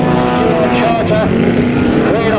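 A supercharged 3.5-litre race car from the 1980s roars loudly and continuously on sand at a 2007 sand racing championship, its engine droning close with shifting pitch throughout.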